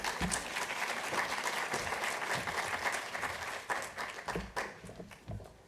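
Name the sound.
audience applause welcoming speaker Dr. Kate Thompson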